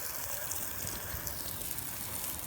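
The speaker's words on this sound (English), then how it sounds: "now I'm watering it down the potatoes I just planted" Water gushing from a hose onto freshly shoveled, smoothed garden soil over just-planted red potatoes, a steady, soft, continuous spray with no talking.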